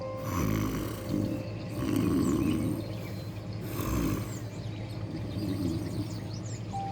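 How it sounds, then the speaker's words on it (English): Low, rumbling snoring-like growls rising and falling in slow repeated swells over a steady background hum, with no talking. "a soft, low rumbling, curiously similar to the sound of a sleeping bear who was snoring"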